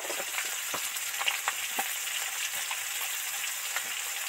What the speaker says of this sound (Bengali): তেলের মধ্যে আদার পেস্টটা দিয়ে দিচ্ছি